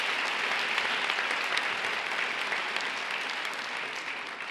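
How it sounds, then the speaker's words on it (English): Sustained audience applause at a mayoral inaugural address in Somerville, Massachusetts, a steady dense wash of clapping from a large crowd that holds roughly level throughout without talk. "give them a round of applause,"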